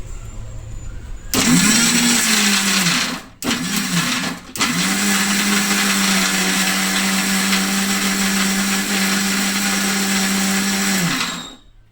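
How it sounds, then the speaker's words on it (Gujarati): A blender roars close and loud, grinding raw mango with pepper and black salt into a thin sharbat paste, running in bursts with two brief stops before a long continuous spin. "હવે પીસી લેશું."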